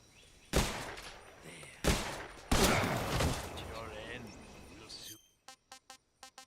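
Gunfire in the stealth-action game Metal Gear Solid Delta: Snake Eater, with three loud blasts that ring and decay and someone talking over them, then a quick run of short faint shots.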